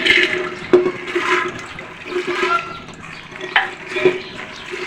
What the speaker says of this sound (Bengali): প্রেশার কুকারের মধ্যে আমি ছোলাগুলো দিয়ে দিচ্ছি সেদ্ধ করার জন্য।